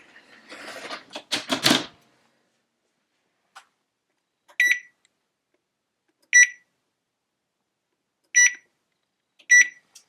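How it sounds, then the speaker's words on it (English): Four short, high electronic beeps from an oven timer sound at even intervals after a brief clatter, each one a sharp, clear tone in an otherwise quiet room. "the oven just beeped"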